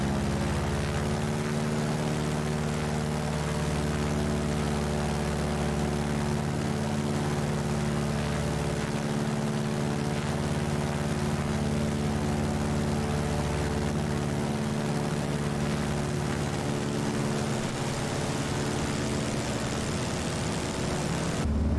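Piston engine of a Carenado Cessna 195 in Microsoft Flight Simulator, a steady propeller drone with layered low harmonics running loud and continuous throughout, with no talking over it.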